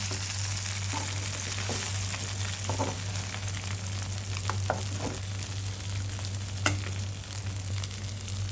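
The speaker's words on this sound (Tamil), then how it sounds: "பாருங்கள், சூப்பராக நல்லா ஃப்ரை ஆகி வந்துருச்சு" Masala fries steadily in a hot pan for Tamil tiffin cooking, a loud, continuous close-up sizzle with scattered spatula clicks and scrapes over a low steady hum.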